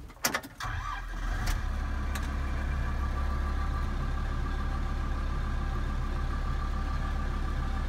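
A Kubota M125X tractor engine cranks to life with a few sharp clanks, then settles into a steady, loud, unchanging idle that never revs up.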